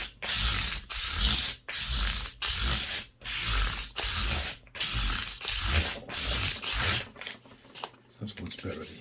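Guitar frets being crowned with a file, in a rhythmic series of about a dozen rasping strokes, each a short scraping burst with brief gaps between them, close and fairly loud.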